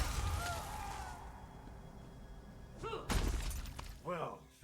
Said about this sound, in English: Try smashing these glass baubles.